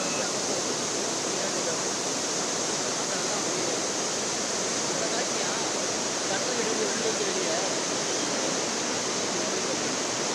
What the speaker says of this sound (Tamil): அணையின் 16 கண் மதகுகள் வழியே தண்ணீர் திறந்து விடப்பட்டது